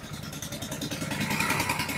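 A Hero Splendor Xtec BS6 motorcycle engine runs close by with a busy, clattering mechanical pulse, holding fairly steady and rising slightly toward the end.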